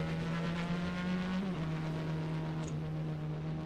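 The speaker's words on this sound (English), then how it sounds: "Is that a motorcycle?" A motorcycle engine revs inside a music track, a sustained low growling drone that holds, dips slightly and settles, blended under the dense music and fairly quiet.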